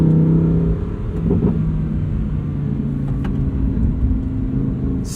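Lamborghini Huracan with a 7-speed dual-clutch gearbox accelerating, a steady loud engine rumble and rising drone that holds throughout without any voices.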